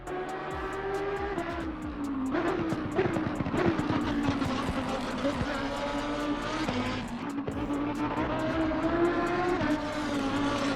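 The new Lamborghini race car in the video game Assetto Corsa Competizione revs hard through the gears, its engine climbing and dropping in pitch with brief tire squeal, loud and steady throughout.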